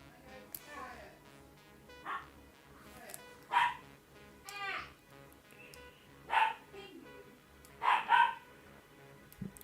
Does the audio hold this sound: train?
no